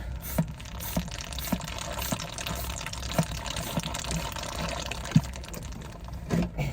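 Water trickles and drains steadily out the bottom of a Rover 200's passenger floor, with distinct drips falling at irregular intervals over a constant watery hiss.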